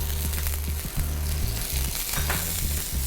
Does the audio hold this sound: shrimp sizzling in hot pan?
yes